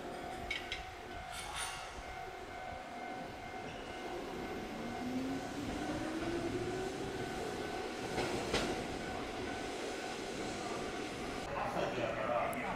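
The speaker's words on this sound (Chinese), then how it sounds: "他们这边的电车叫琴电。" A Kotoden street tram in Takamatsu, Japan, rumbles past at night at a nearby stop, a steady rolling wheel noise with a rising whine and a few sharp metallic squeals over ongoing street ambience.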